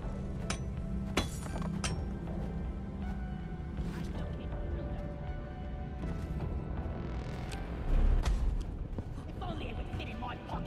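In a video game, a drill dozer cracks an alien Omeron shell, giving repeated glassy clinks and hammering impacts with a heavier crunching burst near the end, under steady talk.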